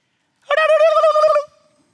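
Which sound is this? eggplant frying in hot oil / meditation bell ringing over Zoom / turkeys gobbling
turkeys gobbling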